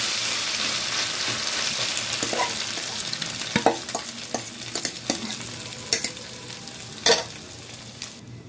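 Maggi noodle mixture frying in hot oil and butter in a pan, giving a continuous close sizzle with intermittent scraping and tapping from stirring and spreading that grows busier toward the end, with no voices.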